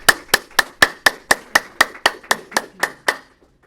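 Clapping after a City National Bank speaker is introduced at a visa talk for tech professionals: about thirteen sharp, evenly spaced claps, roughly four per second, close and fairly loud, with no talk.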